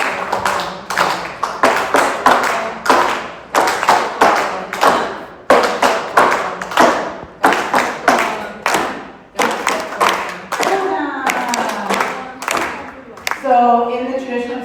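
Steady hand clapping keeps time over son jarocho music at a live performance at Hilltop Manor in San José, California, the claps loud and close in a brisk regular rhythm, with singing voices rising near the end.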